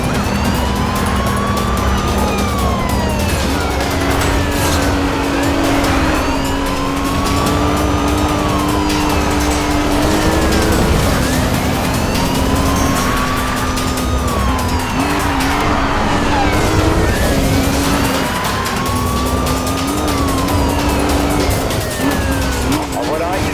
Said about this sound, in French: Code 3 en cours sur une Lamborghini Gallardo